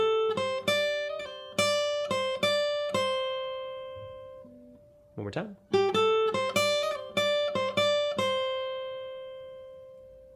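Jazz guitar lick played on clean electric guitar, a run of bright picked notes with ringing sustained tones, a short pause, then the phrase repeated; a voice speaks briefly in the middle.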